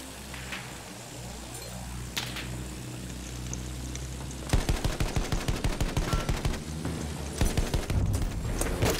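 Battlefield 1 battle sounds: scattered single gunshots and rumbling ambience at first, then sharp rapid machine-gun bursts firing repeatedly at close range through the second half.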